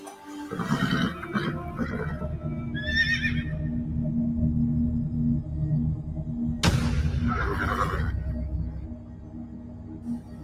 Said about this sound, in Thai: มีม้าด้วยเหรอ